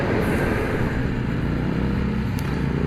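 A BMW S1000RR sport motorcycle accelerates out of a corner, its engine roaring loud and continuous under heavy rushing wind noise, with no voices.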